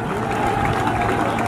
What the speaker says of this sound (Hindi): जोरदार तालियों की गड़गड़ाहट